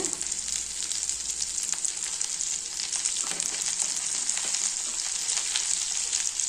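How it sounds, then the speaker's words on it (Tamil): A handful and a half of washed curry leaves sauté in hot oil with tamarind mixture, a constant bright frying sizzle with faint crackles and occasional stirring, no voices. "கறிவேப்பிலை நல்லா கழுவிட்டு எடுத்துக்கோங்க. இதை கொஞ்ச நேரம் நல்லா வதக்கலாங்க."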